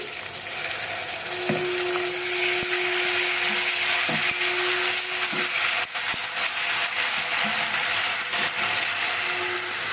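Onion and garlic paste fries in a pan with a constant bright sizzle, close and steady, with a few faint clinks and a tonal hum underneath.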